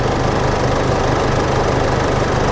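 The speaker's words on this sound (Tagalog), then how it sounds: "Gumagana na yung turbo. Malakas na power niyan, sir." A turbocharged engine runs loudly and close, giving a rough, continuous mechanical roar with a knocking pulse. The speed changes little across the stretch, and no one speaks.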